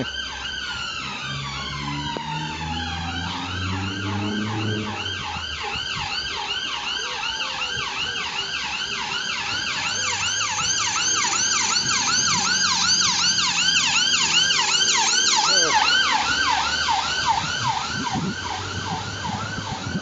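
A loud ambulance siren wails continuously, cycling through rising and falling tones with a rapid yelp section, close by over traffic rumble.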